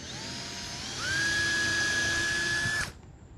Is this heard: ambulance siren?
no